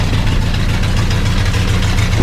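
A 1954 Triumph TR2 roadster engine idles with no muffler fitted, giving a loud, close, raw exhaust drone with a steady low rumble throughout, and no voices.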